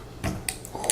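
A Shiner Oktoberfest beer bottle is opened with a Guinness bottle opener: a soft metallic scrape, then a few quick clicks and a short airy hiss as the cap comes off, close and fairly quiet.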